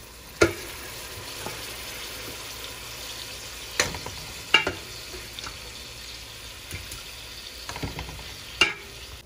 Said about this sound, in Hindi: अब आपने चिकन को अच्छी तरह से फ्राई कर लेना है